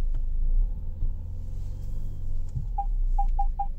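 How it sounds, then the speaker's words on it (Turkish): Parking sensor on a 2020 Citroen C5 beeping in short, evenly spaced pips that start near the end, heard over a low engine rumble inside the car. "Görmüş olduğunuz gibi hem ses hem de burada radar şeklinde park sensörünü gösteriyor."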